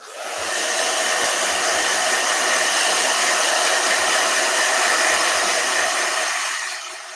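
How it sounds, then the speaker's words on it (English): A hair dryer blows with a steady, loud broadband whoosh for about seven seconds, starting and stopping cleanly, with a faint low hum underneath and no voices. "Go ahead. Blow dryer."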